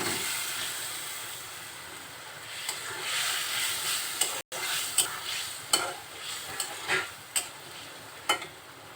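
Peeled boiled eggs frying in spice paste for egg curry, a loud close hiss and sizzle with a run of sharp metallic stirring clacks in the latter half.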